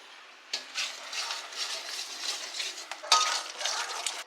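A utensil stirs and scrapes potatoes sautéing in gravy in a pan for stuffed alur dum, with repeated close clinks and scraping strokes over a soft sizzle.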